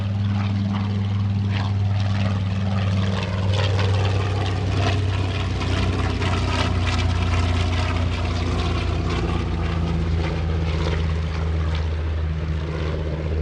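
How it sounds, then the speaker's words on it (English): Radial-engine warbirds, a B-25 Mitchell and a TBM Avenger, drone past at an airshow over Greenwood Lake, a loud steady propeller roar with deep throbbing harmonics that holds throughout as the aircraft pass and begin to recede. "love to hear the sound of those radial engines as the airplane is going away"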